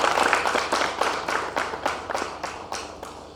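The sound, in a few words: audience clapping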